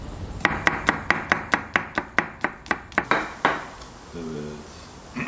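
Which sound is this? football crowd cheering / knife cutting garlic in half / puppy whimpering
knife cutting garlic in half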